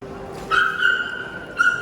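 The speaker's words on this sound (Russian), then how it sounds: "Собака." Small dogs at an outdoor dog show in Korea, with a brief high yip or whine near the start and again near the end over steady crowd murmur.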